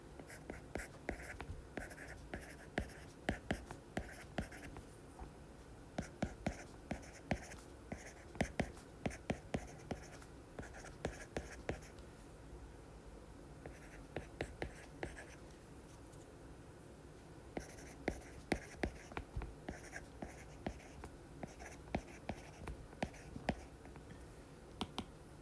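A pen or pencil writes English words by hand on paper, with faint close scratching strokes and small taps in irregular bursts over a quiet room background.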